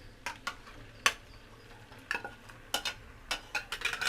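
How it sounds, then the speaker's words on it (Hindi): Chicken curry meat tipped into a pan of frying onions: several crisp stirring clatters and scrapes of a spoon against the pan over a low sizzle, irregular and close, with no talking. "अब हमें इसमें मीट डालना है।"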